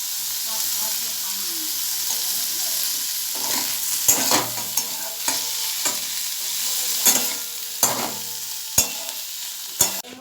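Snake gourd fries in a pan while being stirred, a steady close sizzle broken by sharp scraping and knocking of the spatula against the pan, growing louder and more frequent toward the end, with no talk.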